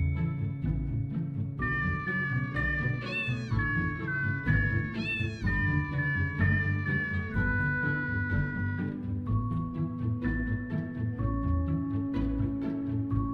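Repeated cat meows and drawn-out caterwauls from the video game The Purring Quest, loud and continuous over a steady music-like background for the whole stretch.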